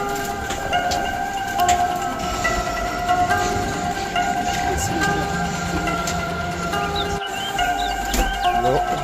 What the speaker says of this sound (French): Et le TGV est déjà là.